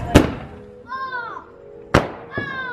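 Fireworks set off outdoors: two sharp loud bangs about two seconds apart, each followed by a whistling, crackling tail, with voices nearby.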